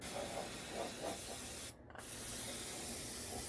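A continuous broadband aerosol spray hissing steadily as starting fluid is sprayed into engine block cylinders, briefly cutting out for a moment before resuming at full strength, close and loud.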